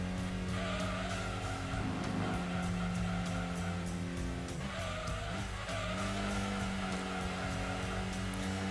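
A Datsun 240Z in Gran Turismo 2 racing through corners in a historic car event, steady droning engine with a buzzy tone and repeated tire squeals as it turns, constant and close throughout.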